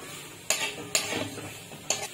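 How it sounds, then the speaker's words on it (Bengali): Paneer and potatoes being stirred together in a pan for paneer curry, with three sharp spoon scrapes against the pan over a soft background sizzle. "পনির আলু একসাথে মিশিয়ে নেব"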